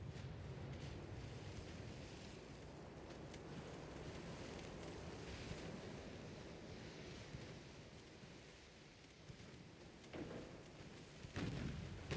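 Battleship guns firing in the naval game Ultimate Admiral: Dreadnoughts, faint and distant muffled booms under a constant wind-like rumble, with a couple of sharper reports near the end.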